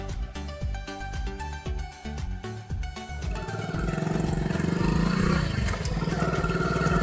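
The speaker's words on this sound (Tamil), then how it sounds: "அது ஏதோ ஒரு வண்டி வருது." In a Tamil short film, a vehicle approaches on a road; after a few rhythmic music beats, a steady mid-pitched engine hum swells and holds loudly, suggesting it draws near.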